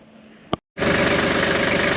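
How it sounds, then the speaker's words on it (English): An old tractor engine starts up after a short click and a pause, then idles loudly and steadily with an even low throbbing rhythm close at hand. "So I'll get the old tractor out here, and we'll see if we can just tear the rest of this on up."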